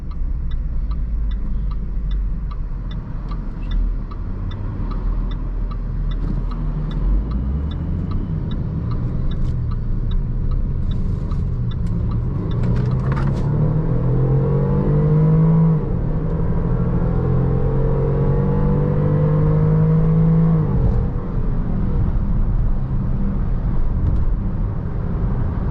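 A 2016 Range Rover Sport HSE drives through corners on a road, its engine rumbling low and steady inside the cabin, rising in pitch as it accelerates, with a ticking indicator early on.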